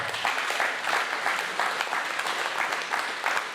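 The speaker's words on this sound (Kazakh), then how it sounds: "Көк туды желбіреткен ағама қорғалжындық браттар от души шапалақ береді" A crowd of guests claps at a Kazakh wedding feast, giving dense, sustained applause with a lively uneven patter throughout.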